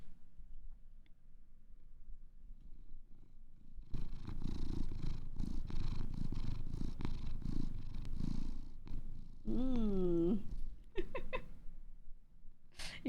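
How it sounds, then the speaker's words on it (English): A pet cat named Nucky purring close against a microphone, a low rumbling purr that swells louder midway, with brief quiet talk and a voice rising and falling near the end. "Oh, you're purring so much."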